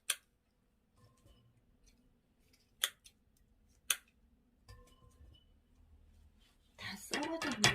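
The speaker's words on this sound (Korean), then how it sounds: "이렇게 가위로 자르셔도 되고 아니면 손으로 이렇게 찢어주셔도 괜찮으세요" Scissors snip through dried squid strips in a handful of sharp, isolated cuts spaced across a quiet room, followed by someone speaking at the end.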